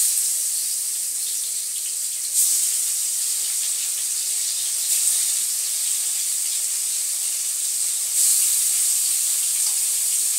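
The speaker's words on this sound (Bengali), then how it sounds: "মাছটা প্রচুর ফাটতেছে, প্রচুর ফাটতেছে, তাই দূরে সরে আছি" Fish frying in hot oil, a steady loud sizzling hiss with a few brief bursts of spattering and popping, close by with no voices.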